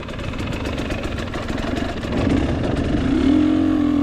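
A GasGas EX250 dirt bike engine runs close by with a rapid, buzzy two-stroke pulse, rising in pitch and loudness partway through as the throttle opens, no talking.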